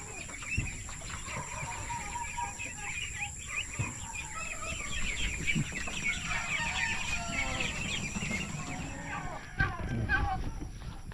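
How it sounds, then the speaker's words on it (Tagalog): Many chickens clucking and chattering continuously nearby, with a rooster crowing and a voice speaking in the background. "Tingnan na muna natin to mga alaga nating manok dito"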